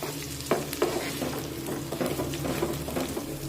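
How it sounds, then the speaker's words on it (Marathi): Finely cut carrots and peas are stir-fried in a pan, with a steady sizzle under frequent scraping and knocking strokes of a spoon tossing the vegetables, close and fairly loud. "बारीक कट करून घेतलेलं गाजर यामध्ये टाकूया थोडस मटार आता या सर्व भाज्या व्यवस्थित परतून घेऊया"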